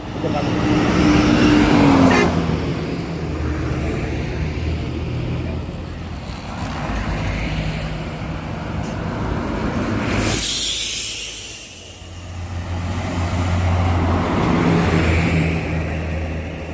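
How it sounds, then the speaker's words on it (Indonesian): Buses and cars pass along a road in Indonesia, their engine rumble and tyre roar swelling and fading in several close passes, with a loud whoosh around the middle, while people talk faintly underneath. "bus-bus apa saja yang lewat dulu sebelum bus Dunia Mas kira-kira"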